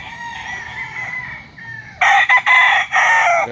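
A White Kelso gamecock rooster crows once, loud and close, in broken bursts after faint clucking and bird noise on a gamecock farm in Batangas.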